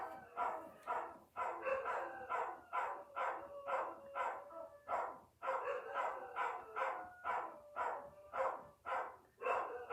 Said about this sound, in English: But I don't know why they're barking like that.